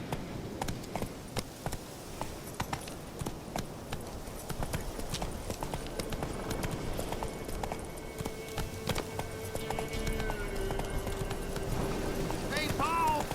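A horse's hooves clip-clop in a steady, fairly close rhythm as it runs in The Witcher 3 video game, with speech and game ambience alongside.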